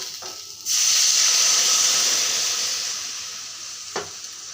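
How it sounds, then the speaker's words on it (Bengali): Water poured into spices frying in a pan for cabbage curry sets off a sudden loud, steady sizzle and steam hiss that slowly fades, with a brief clink near the end. "এখন জলটা দিয়ে দেব।"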